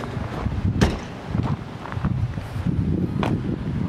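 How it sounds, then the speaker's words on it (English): Gusty wind outdoors beside a 2014 Forest River Cardinal 3727RE RV, roaring and buffeting straight into the microphone with low rumbling bursts throughout, loud and close. "It's a little windy out there"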